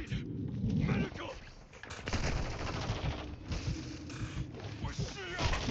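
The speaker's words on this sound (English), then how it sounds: "I'm taking enemy fire." Enemy gunfire in the video game Call of Duty: Modern Warfare 2 rattles in dense, overlapping bursts and bangs at fairly close range, mixed with game noise and a voice.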